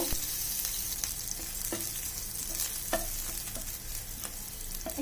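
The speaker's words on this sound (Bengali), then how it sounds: "আমি একটা পেঁয়াজ তুলে দিয়ে দিলাম একটু বাদামি করে এটাকে ভেজে নিব" An onion frying in oil for a baby's khichuri, giving a continuous crackling sizzle close by, broken by several sharp taps and scrapes of stirring against the pan, with no voices.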